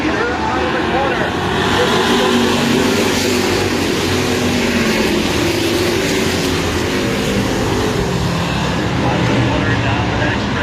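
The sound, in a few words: street stock race cars racing on a track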